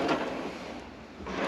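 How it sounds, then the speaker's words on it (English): Drawers sliding out from under the cabin seating of a Sealine F42/5 flybridge motor yacht, a close, steady rumbling slide lasting just over a second. "down here there are drawers which slide out"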